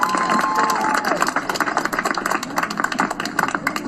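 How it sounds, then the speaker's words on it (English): Protest crowd in Portland applauding outdoors, a dense, continuous wash of many hands clapping with scattered cheers, loud and close, while a voice carries faintly over the top. "go ahead and give yourselves a round of applause for showing up"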